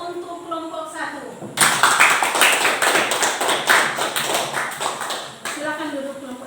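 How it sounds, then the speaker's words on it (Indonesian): A classroom gives a group of students a burst of clapping, many hands tapping close together for about four seconds between stretches of a teacher's speech. "Kalau begitu kita kasih aplaus untuk kelompok 1."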